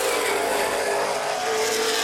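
Late model race cars run side by side at a feature race at Baer Field Speedway, a dense, steady engine roar that stays loud and unbroken throughout.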